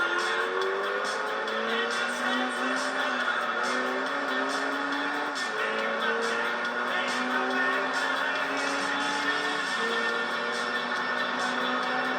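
A Lotus Elise Motorsport race car in the video game Gran Turismo 3 runs a race lap. Its engine whines steadily and climbs in pitch through repeated gear changes, loud and continuous, with no talking.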